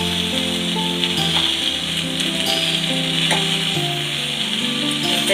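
Cleaned jackfruit pieces frying in oil with sautéed masala, a loud, dense sizzle and crackle running throughout, with scattered pops and stirring knocks close by.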